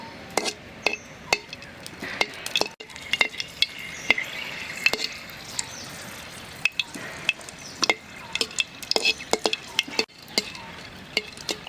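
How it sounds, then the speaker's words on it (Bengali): Dry red chillies frying in hot oil in a pan, a soft steady sizzle broken by sharp scattered clinks and taps of a spatula stirring, close and free of talk. "প্রথমে কটা শুকনো মরিচ ভাজে নেব"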